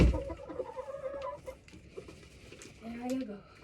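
Chickens in a snowy spring coop cluck softly and intermittently, with scattered shuffling and patter around them, a voice faintly present in the background.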